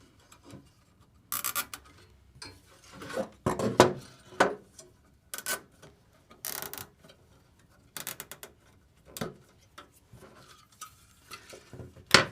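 Fasteners are tightened to lock equipment into a portable rack case, giving sparse, close clicks, scrapes and ratchety turning sounds in short irregular bursts with quiet gaps between them.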